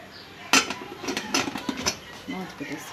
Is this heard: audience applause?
no